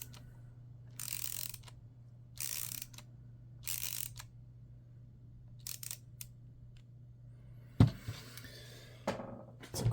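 A Wera Kraftform Kompakt ratchet clicks in several separate bursts of fast, crisp ratcheting, close and clear over a low steady hum, with a couple of louder clunks near the end.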